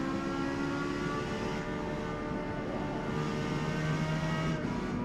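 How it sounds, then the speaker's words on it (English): A racing car's engine in a driving video game drones steadily at low RPM, hesitating and spluttering with slight dips in its continuous, fairly loud hum. "that hesitation in the engine, that splutter"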